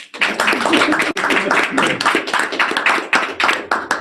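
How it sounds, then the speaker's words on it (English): Clapping from a small group, loud and close, a rapid uneven patter of hands with brief dips and pulses rather than a dense roar, continuing steadily for several seconds. "Clap now, please"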